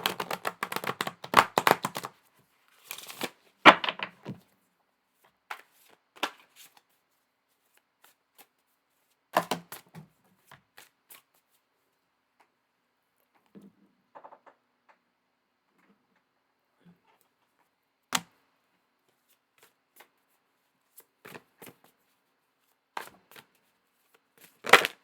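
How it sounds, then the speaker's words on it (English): Playing cards are shuffled in a quiet room: two quick riffling bursts near the start, then sparse soft taps and clicks as the cards are handled, with no voices. "I'm sorry if the cards shuffling is"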